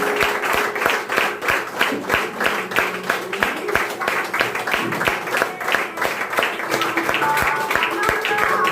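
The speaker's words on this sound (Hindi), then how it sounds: "जोरदार तालियों के बीच।" Loud, dense applause from an audience at a display wall celebration, steady rhythmic clapping filling the whole stretch with a few voices mixed in underneath.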